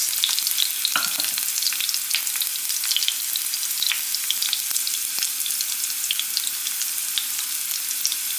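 Garlic frying in a pan gives a steady, close sizzle and crackle with small pops, plus a few stirring scrapes near the start.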